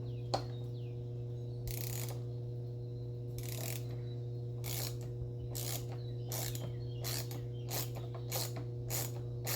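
A ratchet loosens bolts on the air intake of a 2021 Camaro LT1, with repeated bursts of rapid clicking separated by pauses, over a steady low hum.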